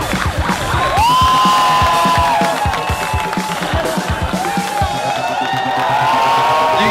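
A rowdy crowd at a Formula Drift event cheers and whoops loudly, a dense continuous roar with rising shouts layered over a pulsing background beat.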